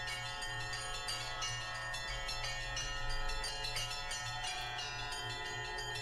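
Church bells in the horror game Gray Dawn ring in overlapping, resonant peals that sustain throughout with a steady, reverberant tone and no talking.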